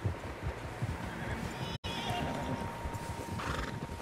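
Horses in the video game Red Dead Redemption 2 whinny and neigh amid clip-clopping hooves, several animals close by in a busy outdoor scene with a brief dropout partway through.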